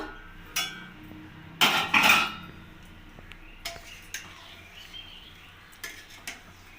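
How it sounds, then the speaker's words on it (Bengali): A metal pot lid lifts off a pan of basanti pulao rice with a sharp clang and rattle, followed by sparse light clinks of utensils against the pot in a quiet kitchen. "এবার আমি ঢাকাটা খুলে দেখে নেব"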